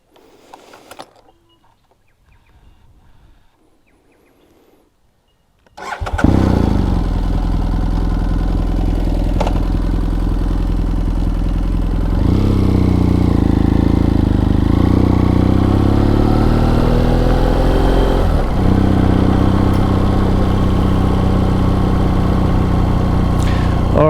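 A 2013 BMW F800 GS motorcycle engine starts after a few quiet seconds, then idles and runs steadily and loud close by for the rest of the time, its pitch shifting slightly midway.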